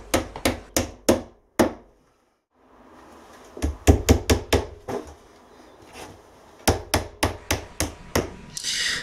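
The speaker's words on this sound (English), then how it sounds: "I had some nails left over from a previous job, so I'm just using those to secure the second batten on top of the first" Left-over nails hammered into a timber batten laid over another: quick runs of sharp, ringing strikes, several in a row, with pauses and softer handling noise between bursts, close and clear with no talking.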